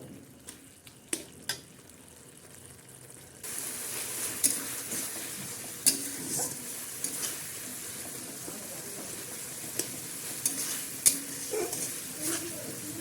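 Turmeric and chili powder with chopped green chilies cook in a pan for dal tadka, giving a steady low sizzle after a quieter start, with scattered clicks and scrapes of stirring and faint speech in the background.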